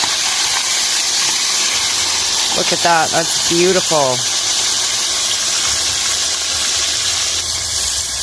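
Fresh-caught walleye cooks in a pan with a loud, steady sizzling hiss that fills the whole clip, while someone speaks briefly over it.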